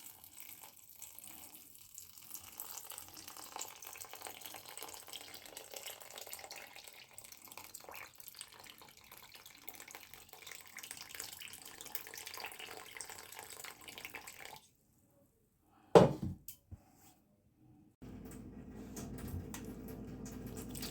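Water pours steadily onto green peas being prepared for preservation, a broad continuous splashing rush that runs for about fifteen seconds, breaks off into near silence, then gives way to a lower, steadier flow.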